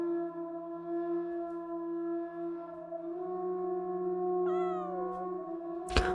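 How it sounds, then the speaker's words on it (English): A domestic cat named Vashka gives a single drawn-out meow near the end, rising then falling, heard over a steady humming background and followed by a sharp knock. "Oh, the kitty!"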